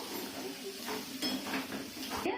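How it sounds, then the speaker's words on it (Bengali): Cumin and chili powder are stirred in a pan for matar paneer, giving a short stretch of soft scraping and light sizzling with faint clinks of the utensil, close and fairly quiet. "নেড়ে চেড়ে দেবো।"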